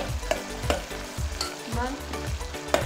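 Potatoes frying in a pan with chilies and tomatoes for veg pulao, a loud close sizzle with quick spatula stirs and scrapes every half second or so, no talking.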